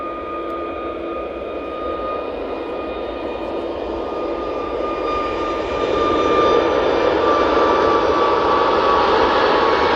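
A TUI Boeing 737 MAX 8 jet at Manchester Airport roars steadily with a whining tonal engine hum and broad rushing noise, loud and continuous, swelling slightly louder as it nears.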